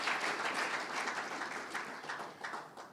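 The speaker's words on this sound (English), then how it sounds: "I think you may want to clap for us." Audience applause fills a hall at an architecture awards ceremony, a dense, sustained wash of many hands clapping steadily for the full three seconds with no break.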